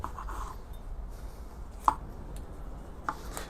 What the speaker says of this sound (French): je vais prendre mon couteau et je vais venir couper tous les pédoncules